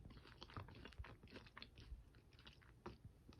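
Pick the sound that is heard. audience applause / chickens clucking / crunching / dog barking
crunching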